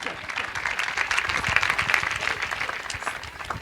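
Steady applause from a church congregation welcoming a speaker at a church festival, many hands clapping continuously at moderate distance for several seconds.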